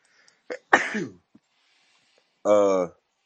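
A short, sharp sneeze bursts out, followed a moment later by a brief voiced sound, with silence around them.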